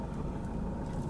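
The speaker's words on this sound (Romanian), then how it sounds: "apăs ambreiajul, cal frâna, apăs butonul start-stop și motorul a pornit" A 2014 Nissan Qashqai engine runs just after being started with the keyless start-stop button, giving a steady low idle rumble close by with no talking.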